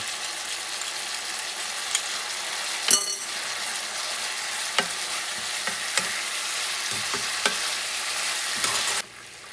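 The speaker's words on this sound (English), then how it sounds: "About 2 or 3 teeth of garlic, chopped. Going to add it." Chopped garlic sizzles steadily in a hot wok while making Kung Pao chicken. A spatula stirs it, with several scattered clinks and scrapes, and the sound cuts off sharply near the end.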